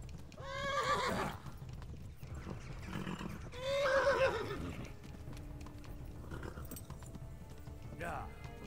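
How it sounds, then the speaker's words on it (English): A horse in the video game Kingdom Come: Deliverance gallops with steady clip-clop hoofbeats and lets out two loud whinnies, while a person's voice is heard alongside the game sounds. "Come on, horsey. Run if your life depended on it."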